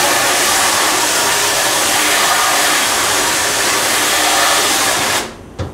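Water sprays steadily and loudly onto a screen printing screen in a darkroom, a continuous hiss that runs for about five seconds before cutting off abruptly.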